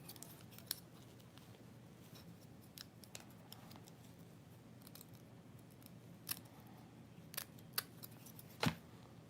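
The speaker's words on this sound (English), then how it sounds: "So I like to just cut the lace off" Scissors snipping the lace off a gray hair wig, faint scattered cuts at an irregular pace with a sharper, closer snip near the end, set against a quiet room.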